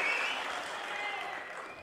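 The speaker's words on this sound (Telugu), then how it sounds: "ఉందంటే గట్టిగా చప్పట్లు కూడా చెప్పండి" A crowd at a party workers' meeting applauding together in a hall, a dense wash of clapping that holds steady and then fades slightly, with a voice partly blended in.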